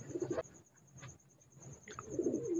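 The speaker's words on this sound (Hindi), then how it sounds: "ये है जी स्टार वाली ब्रीड का एक कबूतर" A star-breed pigeon coos close by, two soft throaty rolling coos separated by a quiet pause, with a faint steady high tone in the background.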